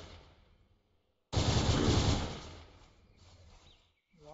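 A futuristic rifle in an Unturned mod fires one loud, sharp blast that trails off into a decaying rumble, with fainter mechanical clicks and a short chirp afterward.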